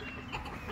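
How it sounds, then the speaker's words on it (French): A Barbary hen gives a couple of brief, soft clucks, close by, over a steady low farmyard background. "Là on a une poule Barbarie"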